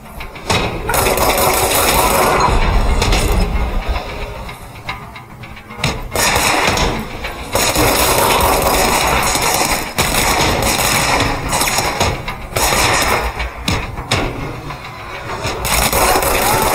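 Gunfire in the video game Control, repeated loud thudding shots and impacts in dense bursts with brief gaps, layered over a constant rumbling game soundscape.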